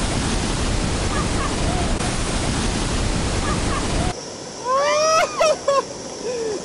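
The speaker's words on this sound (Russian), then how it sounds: "водопад прям течет на ступеньки" Niagara Falls water pours onto the stairs with a loud, steady, roaring rush that fills the first four seconds. It then gives way to a quieter scene with a few short whistling tones.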